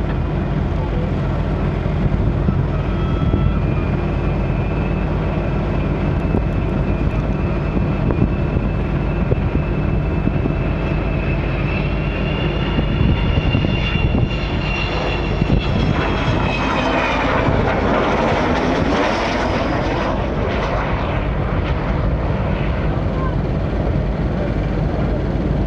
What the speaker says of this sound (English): engines, the Vulcan B.2 on your left.